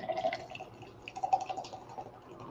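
A drink poured into a cup, a soft trickling and dripping with irregular little splashes, quiet and close, in two short bursts.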